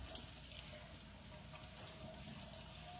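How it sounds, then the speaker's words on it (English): Water runs steadily from a tap into a sink as raw cut beef is washed for a stew, a constant close splashing hiss with no voices. "We're gonna wash the meat in a little bit."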